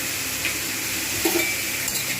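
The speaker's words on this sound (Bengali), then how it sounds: "আলু এবং পটল একসঙ্গেই ভেজে নেবো" Potatoes and pointed gourd fry together in a little oil with salt for a Bengali potol aloo posto, giving a steady close sizzle with a few light clinks of stirring. No one speaks.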